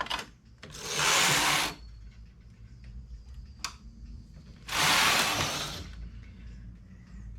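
A knitting machine carriage makes two loud, rushing sweeps across the needle bed, each lasting about a second, separated by quieter mechanical ticks and a sharp click, heard up close with no talk.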